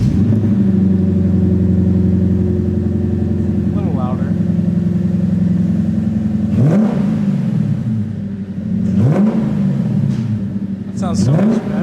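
A Lexus IS F with its Borla muffler removed idles with a deep, loud rumble, then revs sharply three times, each blip rising and falling back to idle, recorded close up.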